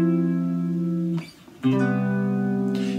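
Three-string cigar box guitar playing sustained chords through a subtle chorus effect, a held chord that briefly drops out and then rings again, close and alone.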